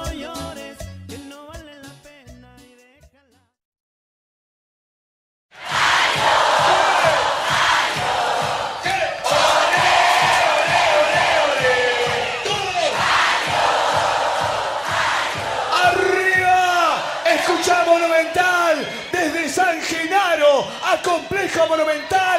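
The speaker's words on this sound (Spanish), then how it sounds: "el aplauso de todo el complejo" At a live Latin music concert recorded at the Complejo Monumental, a large crowd bursts into loud, sustained cheering and applause after a short stretch of silence. Shouts and whoops rise through the roar.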